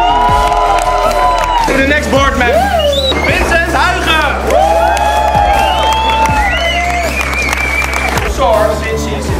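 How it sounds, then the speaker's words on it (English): A crowd claps and cheers loudly and steadily at a U-BASE 2019 year-end board recognition event, with whoops and children's shouts rising over the applause while an announcer speaks through a microphone. "May I have one big applause for Maria Felicita."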